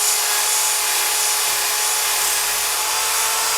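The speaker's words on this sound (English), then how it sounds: "I can wire wheel all that rust off" A wire wheel scrubs rust off a Suzuki GS1100E muffler with a continuous, harsh high-pitched whir and hiss, steady and close, and no speech.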